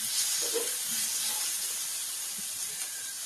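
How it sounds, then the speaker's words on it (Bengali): Marinated chicken frying in spice masala over a low flame, a continuous bright sizzling hiss that stays steady and close for the whole short stretch, with no talking. "চিকেনটাকে ভালো করে ভেজে নিতে হবে।"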